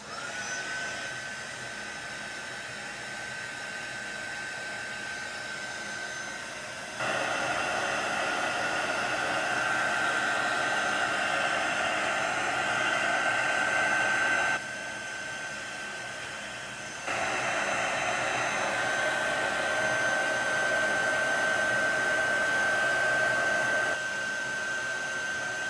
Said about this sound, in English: So I'm going to use my heating tool to go ahead and dry this.